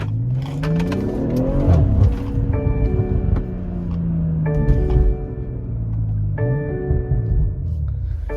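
BMW M340i driving in sport mode, engine note rising repeatedly through the gears with rev climbs and shifts, tire and road rumble beneath, close from inside the car, no talk.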